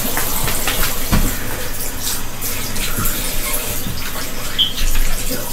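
Water rushes and splashes steadily as it is poured out in a bathroom, a continuous close gush like a tub or sink filling, with no talking.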